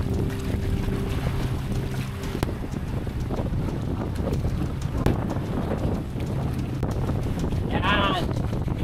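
Strong wind roars during a quick storm at sea around a small boat, a rough continuous gusting with bumps and knocks, and voices talk briefly over it.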